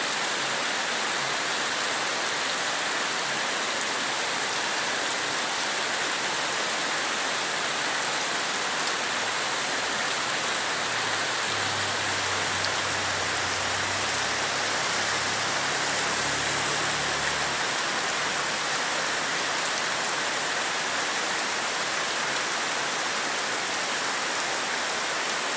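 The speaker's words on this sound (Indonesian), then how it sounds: "Hujan deras guys ya." Heavy rain pours down in a constant, dense roar that stays steady and loud throughout, with a faint low rumble partway through.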